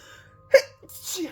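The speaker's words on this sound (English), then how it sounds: "Excuse me, that sneeze." A single sharp human sneeze bursts out near the mic, followed by a short breathy exhale, with a quiet room behind it.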